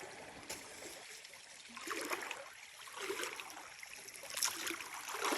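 Creek water runs around a fallen log and a pile of driftwood, making a soft, steady trickle and gurgle heard faintly from nearby, with no talk over it.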